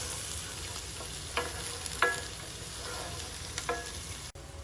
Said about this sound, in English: we're gonna finish sauteing the onions and garlic until it's all nice and clear